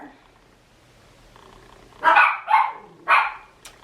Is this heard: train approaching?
no